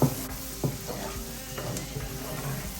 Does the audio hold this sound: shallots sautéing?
yes